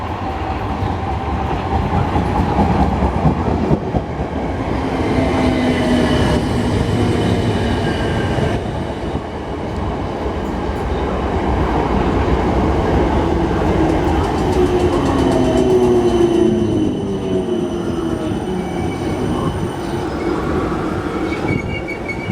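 A South Western Railway Class 455 electric train pulls into a station with a loud, continuous rumble of wheels and motors, clattering rail joints and rising wheel squeal as it slows close by.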